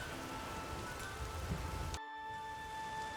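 Steady rain pours in the fantasy world of the video game The Witcher 3: Wild Hunt, a dense hiss that cuts off abruptly midway and leaves a quieter, thinner ambience with faint tones.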